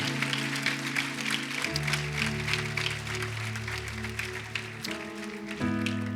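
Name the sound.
congregation applause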